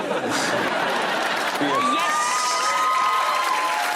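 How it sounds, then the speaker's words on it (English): Studio audience at a comedy panel show cheering and whooping loudly, a sustained crowd roar with a few individual shouts rising above it. "Was that cheering because you like the hot guy or because you're really strong about the podium lectern thing?"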